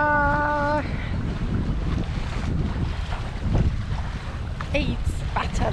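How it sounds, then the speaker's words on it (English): A sailboat under sail makes a constant rush of wind and water with heavy wind buffeting on the microphone, and a brief tonal beep is heard at the start. "So we're sailing. The wind seems to be as forecast."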